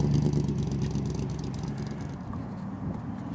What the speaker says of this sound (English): First drive, 331 engine.